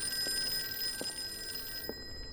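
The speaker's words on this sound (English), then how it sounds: "Anything else here before I answer this phone?" A telephone rings inside the Call of Cthulhu video game, three soft, evenly spaced bell bursts over a steady hum of ambient game tones.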